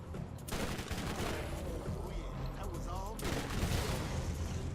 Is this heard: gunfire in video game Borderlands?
yes